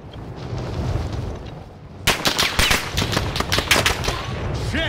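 Gunfire in a battle royale video game: after a quieter stretch of ambient rumble, rapid bursts of automatic shots crack in close and loud, with one burst following another.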